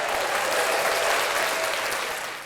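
Applause from a small audience at a hip hop culture podcast recording, a dense close clapping that holds steady and then begins to fade toward the end.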